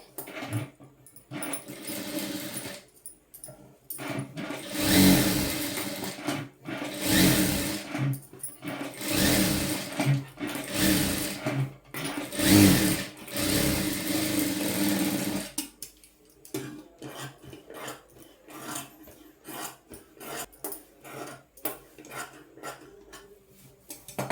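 A sewing machine stitches a lehenga blouse panel in a run of short, close bursts with brief stops, then gives way to scattered light clicks and fabric handling.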